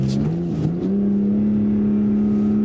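A BMW G80 M3 Competition xDrive at full throttle in rear-wheel-drive mode gives a loud, close engine drone that climbs briefly in pitch and then holds a steady, strained tone.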